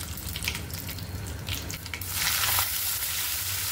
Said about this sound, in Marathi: तर आता आपण टाकूया टमाटर